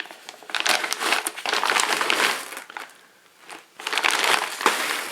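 A big plastic bag full of pulled 7.62mm bullets crinkles and crunches as it is handled, in loud irregular bursts with a brief quieter pause midway, close up and without talk.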